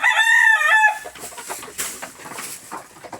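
A flock of chickens gives a short burst of close, harmonic clucking calls, then quieter scattered clucks and rustling continue in the background.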